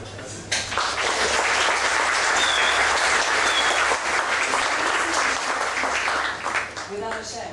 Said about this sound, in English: I think a big applause for him